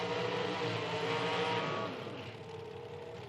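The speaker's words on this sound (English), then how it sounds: "Finishing the burnouts here for the next pair." Nitro drag racing cars finish their burnouts at an IHRA Outlaw Nitro Series event, a loud, harsh engine roar that holds steady and then fades off as the cars pull away.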